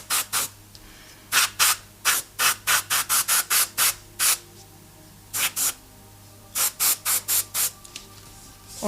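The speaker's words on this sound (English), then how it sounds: "I use the airbrush like a brush." An airbrush sprays paint in short, repeated bursts of hissing air, close and distinct, coming in quick irregular clusters separated by brief pauses.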